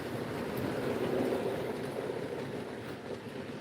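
A Tyco model GG1 locomotive runs steadily along its track, producing a continuous low rumbling hum that holds at an even, moderate level throughout with no voices.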